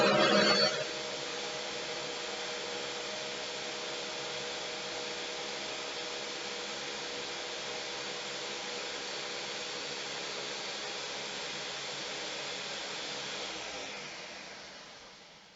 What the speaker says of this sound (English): So I'm going to blend this mess of watermelon here.